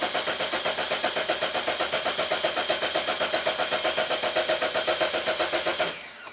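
A Toyota Corolla engine cranks without catching, the starter churning in a steady, rapid rhythmic whir for about six seconds before it cuts off abruptly.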